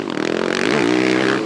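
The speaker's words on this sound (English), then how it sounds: "You can hear the crack of the exhaust." A lightweight Husqvarna motocross bike races in a Grand Prix at Rudersberg, its exhaust cracking and snarling loudly and close as the engine revs climb steadily, with a rough rattling edge throughout.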